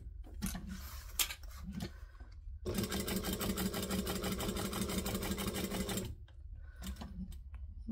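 A sewing machine topstitches a stubbie cooler, running in a steady rapid whir for about three seconds between shorter bursts and pauses, close and clear with no talk.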